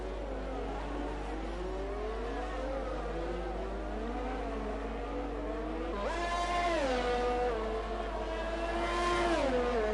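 Formula 1 race cars in a PS4 video game race at Vietnam scream past under acceleration, their whining engine notes rising and shifting in pitch, loud and continuous, with a sharp new surge toward the end.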